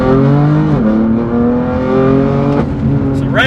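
A BMW M4 GTS with an S55 engine revs up through its exhaust, the raspy tone climbing in pitch, dipping briefly, then rising again, loud and close.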